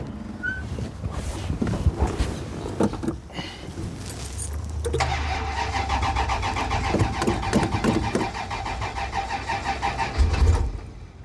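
A car engine is cranked after sitting through winter, grinding steadily and close by, then catching briefly into a rougher running note that does not settle into a clean idle.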